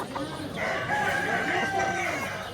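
A rooster crows once in a long, drawn-out call over a busy, noisy background at a poultry market in Manas.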